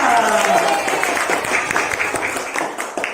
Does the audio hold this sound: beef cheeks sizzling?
no